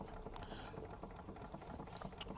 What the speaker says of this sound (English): you can see the water's bubbling away